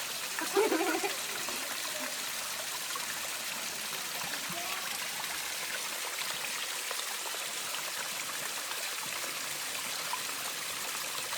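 Steady broadband rush of a natural mountain stream flowing continuously in Ekole Valley in the Sahyadri hills, with no voices, a brief louder gurgle near the start.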